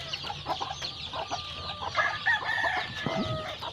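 Hens cluck and a rooster crows inside a chicken coop on a farm, with steady overlapping clucks and calls close by throughout, louder bursts near the middle and end.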